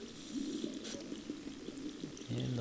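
Gentle water flowing in the Knytt Stories video game, a steady watery wash running throughout with a soft splash near the middle and no talking.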